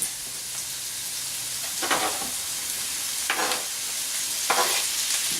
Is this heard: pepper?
yes